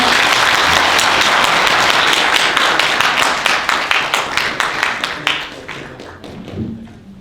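An audience claps for five panel guests at a 20th-anniversary event talk show, with loud, dense applause that thins into scattered individual claps toward the end.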